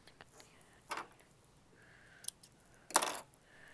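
Scissors trim the end of sewing thread at a Singer Tradition sewing machine, giving a few quiet, sharp metallic snips spaced apart against near silence.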